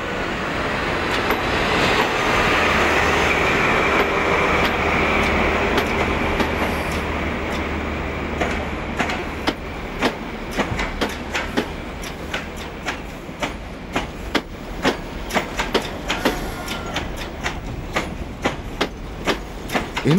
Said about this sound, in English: HST leaving the station for the southwest.